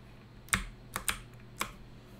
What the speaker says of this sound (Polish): Czemu mi klawiatura nie działa?